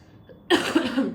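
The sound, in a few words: coughing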